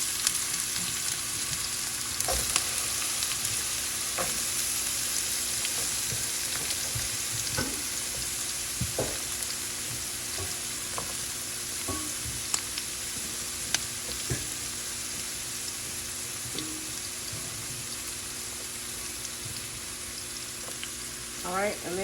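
Diced onions sizzle and fry steadily in a hot pan for breakfast salmon croquettes, a continuous bright hiss with occasional stirring clicks and a faint voice now and then.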